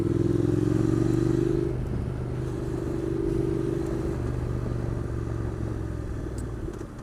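A Honda NC700X motorcycle riding along, its engine a loud steady drone close by with a low rumble that eases slightly, no talk.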